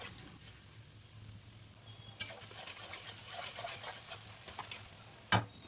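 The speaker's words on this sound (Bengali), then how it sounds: "পেঁয়াজটাকে এবার হালকা লাল করে ভেজে নেব।" Onions fry gently in oil with whole cardamom pods, cinnamon sticks, cloves and bay leaves, a faint, soft sizzle. Two sharp utensil taps stand out near the middle and at the end.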